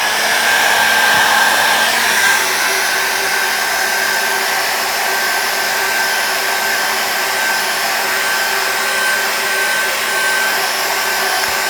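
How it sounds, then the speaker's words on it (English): A hair dryer blows steadily and loudly without pause, drying a fresh layer of acrylic paint on a landscape canvas, with a constant whooshing roar and a thin whine on top. "Let's just dry that off with a hairdryer."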